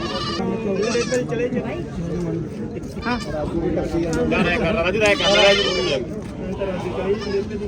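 Several goats bleat in overlapping wavering calls close by, mixed with chatter from people nearby.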